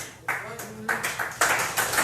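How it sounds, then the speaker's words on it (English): An audience breaks into applause, a short burst of clapping that swells in uneven surges over about two seconds, fairly close and loud, with no voices over it. "You hear the applause."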